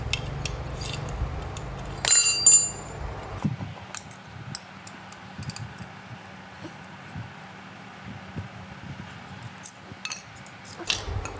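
Metal tie rods are worked loose on a submersible pump motor with scattered metallic clinks, taps and scrapes, a couple of louder rattling knocks, close and irregular over a low hum.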